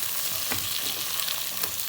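Crab frying in ghee in a pan for a masala crab fry, a steady dense sizzle with occasional crackles and pops, close and continuous with no talking.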